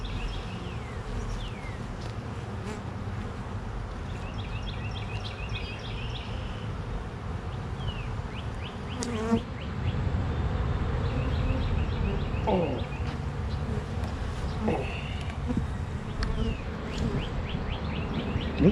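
Honeybees buzzing in a hive box at the season's first hive inspection, a continuous droning hum that swells louder partway through, with occasional bird chirps in the distance.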